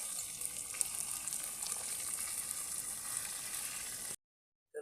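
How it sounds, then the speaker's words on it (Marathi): Marrel fish fry in hot oil with a steady, fairly loud sizzle and scattered pops, unbroken for about four seconds before cutting to near silence. "हे बघा, तेलात फ्राय करतात, फक्त तेल घेतले."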